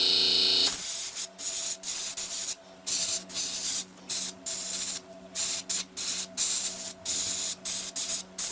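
Spray paint going on in short light bursts over a 1:200 scale Trumpeter USS Missouri model ship: repeated hissing sprays of about a second each, separated by brief pauses, close and fairly loud.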